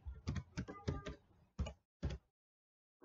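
Typing on a computer keyboard under Windows 11: a quick run of close, crisp key clicks, then two separate keystrokes after short pauses and a last faint tap at the very end.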